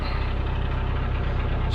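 Canal narrowboat engine on the Birmingham and Fazeley Canal near Fazeley, a steady low diesel chugging throb held close and continuous, with no talking.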